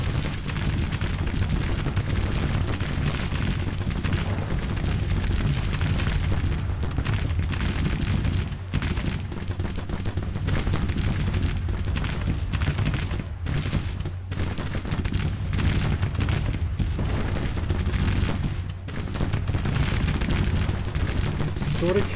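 Massed musket volleys and booming artillery roll through a Grand Tactician: Civil War battle in the Shenandoah, a dense, continuous fusillade with scattered heavy blasts, steady and loud for the whole stretch while someone talks intermittently over it.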